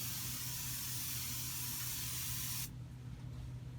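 Water is sprayed over microgreen grow mats sprouting radish, cabbage and broccoli: a close, steady hiss from the spray bottle runs for about three seconds and then cuts off, leaving a low background hum.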